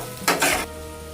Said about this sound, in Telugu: ఇలా కలుపుకుంటూ 2 నిమిషాలు కుక్ చేసుకోండి.